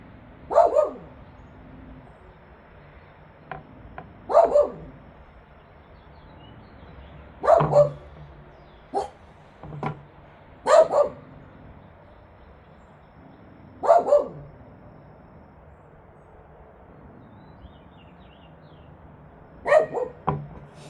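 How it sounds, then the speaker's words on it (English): A guard dog barks in short bursts of one or two woofs, repeated every few seconds over about twenty seconds at moderate distance, with quiet room sound between and no talking. "Guard dog."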